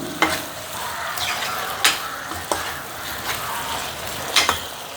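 A mussel stir-fry with coconut milk cooking down in a pan, steady sizzling punctuated by several sharp spoon scrapes and knocks against the metal, close by and without speech.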